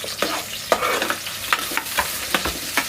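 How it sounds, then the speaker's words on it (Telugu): Onions frying in hot oil for a fish curry, with a continuous sizzle broken by repeated sharp scraping strokes of a spoon stirring the pan at close range. "వీటిని అయితే ఇక మంచిగా ఫ్రై చేసుకుంటున్నాను"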